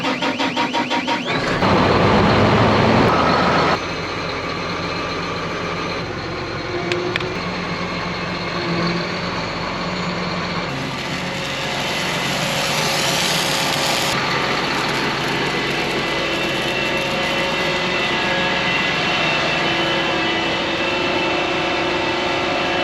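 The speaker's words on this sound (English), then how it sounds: "let's get in the tractor, crank her up" A tractor engine cranks and catches, then settles into a steady, loud diesel idle that runs on with a few shifts in pitch, no talking.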